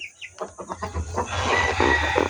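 Chickens with newly hatched chicks cluck and peep in a quick run of short calls, close by and fairly loud, over a low steady background hum.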